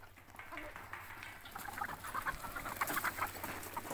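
Domestic chickens cluck and call at a farmyard coop in the evening as they are herded inside, a busy overlapping flock chatter that grows louder and denser toward the end.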